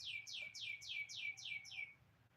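A bird calls in a quick run of seven clear, descending chirps at an even pace, fairly close but soft against quiet indoor background hum, no talking during it.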